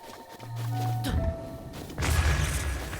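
Bomb detonations against a machine enemy in a Zelda video game: a booming burst near the middle, then a heavier, louder blast, set among electronic game tones.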